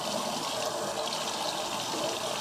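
Tap water running steadily while makeup brushes are rinsed under it: a constant, close, hissing rush of water with no breaks and no talking.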